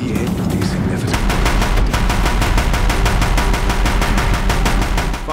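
Sustained rapid gunfire from a picked-up gun in the video game Horizon Zero Dawn, a loud, dense rattle of closely spaced shots running continuously under a heavy low rumble.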